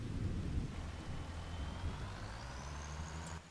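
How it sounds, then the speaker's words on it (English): Steady rain hisses and patters in the Farming Simulator 25 video game, a constant dense wash with a low rumble underneath and no talking. "I swore to me this rain wasn't gonna last long."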